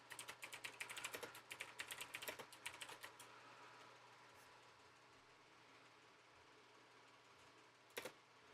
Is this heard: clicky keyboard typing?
yes